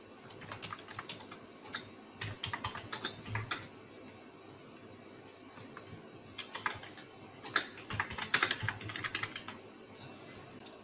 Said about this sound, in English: Now after typing my message